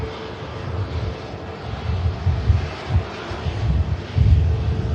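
A Ryanair jet departing Manchester Airport for Brussels gives a moderate, distant engine rumble with low gusty pulses of wind buffeting the microphone throughout.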